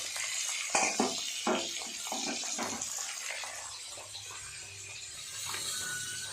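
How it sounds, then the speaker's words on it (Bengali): Hot water splashes and trickles as it drains from a pot of boiled potatoes in a home kitchen, with a few clattering bursts early on easing into a softer, steady runoff. "এবার ঢাকা খুলে জলটা ঝরাতে দিয়ে দেবে"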